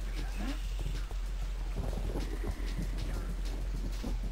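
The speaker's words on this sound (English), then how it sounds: "Hear thunder, but I'm not concerned about that." Thunder rumbles low and steady amid rain in the video game Daikatana, a continuous distant roll with scattered thuds under faint game sounds and a voice talking over it.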